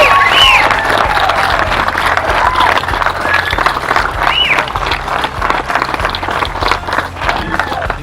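A crowd at a Southern Pacific #18 Silver Spike celebration claps and cheers with scattered whoops, a steady patter of applause that goes on for several seconds and fades slightly toward the end.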